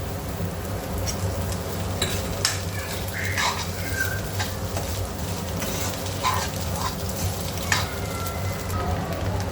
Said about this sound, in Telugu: ఇలా అన్నీ వేసేసుకున్న తర్వాత ఫ్రై చేసుకునే ఎగ్ను కూడా వేసేసుకుంటున్నాను.